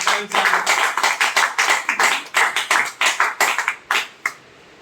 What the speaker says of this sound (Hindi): स्वदेश सर के लिए जोरदार ताली बजाइए